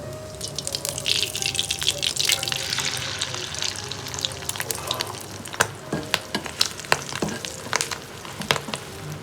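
An egg fries in oil in a pan, a close, steady sizzle and crackle with some dripping and splashing, then a run of sharp scraping clicks near the end.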